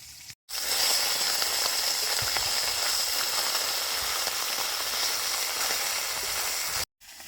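Fish caught from a river fries in a pan at a riverside village-style cookout, a dense continuous sizzle close and loud for about six seconds, cut off abruptly at both ends, with no talking.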